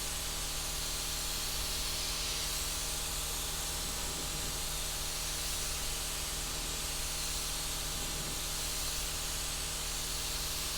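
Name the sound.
spray gun spraying a paint fade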